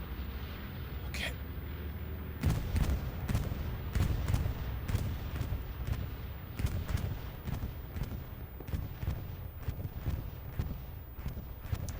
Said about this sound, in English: That's gonna be a beautiful bombing run.